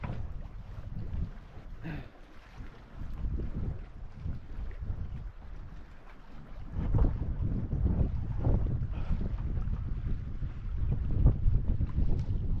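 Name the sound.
wind blowing while loading a canoe on a lake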